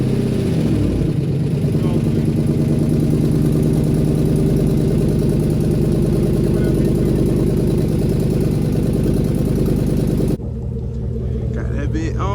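A lifted Chevrolet Tahoe with a heavy-duty transmission idles with a loud, close, steady engine rumble that runs unbroken for most of the clip before dropping slightly in level near the end.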